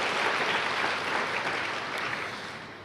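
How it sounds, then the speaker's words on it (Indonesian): A church congregation applauding during a sermon, steady dense clapping that fills the room at an even level for a few seconds, with no voices standing out above it. "tepuk tangan bagi Tuhan."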